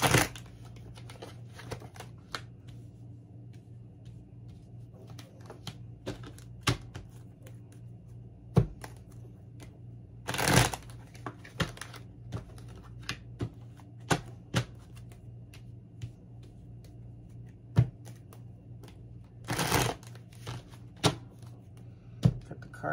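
Tarot cards handled and shuffled on a table, scattered soft taps and rustles with a few longer riffling bursts, quiet and close over a low steady hum.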